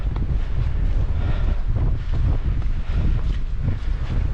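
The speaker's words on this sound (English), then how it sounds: "Back in the wind again now." Strong wind buffets the microphone on a hilltop walk up Windy Gyle, a loud, constant rumbling roar with gusty fluctuations throughout and no voices.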